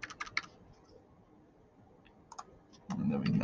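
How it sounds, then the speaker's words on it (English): Quick bursts of clicky keystrokes on a computer keyboard, with a short pause and then a few more taps, followed by a louder swell of background noise at the end. "Isn't this so fun watching me type?"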